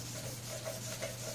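Soft, rhythmic rubbing of 1000 grit sandpaper wet sanding the Rust-Oleum paint on a golf cart, a faint close scrubbing with gentle repeated strokes over a low steady hum.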